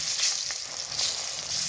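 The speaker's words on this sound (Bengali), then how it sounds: "এইখানে দিয়ে দেবো সামান্য একটু গরম তেলে হলুদ" Turmeric is dropped into a little hot oil and answers with a brief, bright sizzle. The hiss swells and eases over a couple of seconds, close up and with no voices.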